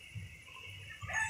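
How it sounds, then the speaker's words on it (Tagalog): Chickens cluck softly in short bursts close by, with wind noise in the background. "Nagbababa kami ng aming mga alagang manok."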